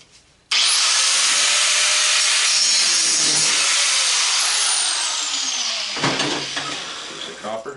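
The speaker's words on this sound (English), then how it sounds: "I'm going to cut that piece of copper off at the angle grinder." An angle grinder cutting copper off a scrap faucet, starting abruptly with a loud, high, sustained whine and shriek that fades near the end, with a voice and clatter as it winds down.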